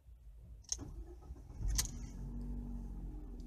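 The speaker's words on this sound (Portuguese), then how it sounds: "Agora a gente dá partida aqui no carro" A Ford New Fiesta is started with a copied key: two sharp clicks come first, then the engine catches and settles into a steady low idle, close by.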